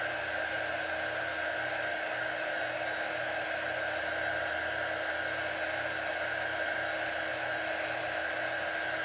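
Hair dryer blowing steadily to dry a craft transfer, a loud, even whooshing hum that runs unbroken and alone, no voices over it.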